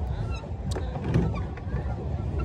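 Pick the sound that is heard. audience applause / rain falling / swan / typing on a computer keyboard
swan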